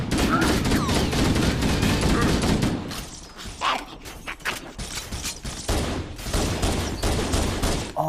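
Rapid turret gunfire in the Halo Master Chief Collection video game, a loud sustained burst that breaks into shorter choppy volleys and scattered impacts, with a voice talking over it.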